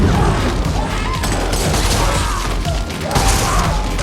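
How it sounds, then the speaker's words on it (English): Shotgun fire rips through a John Wick 4 action sequence, a continuous loud, dense barrage of booming blasts and impacts layered over a thick film soundtrack with no clear gaps. "John completely annihilates Frenchmen with a shotgun shooting fire"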